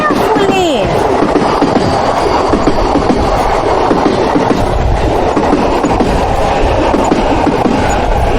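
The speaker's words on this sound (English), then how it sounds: "It's train." A train rolls past loudly and steadily, with dense rumbling wheel noise and a brief high squeal at the start.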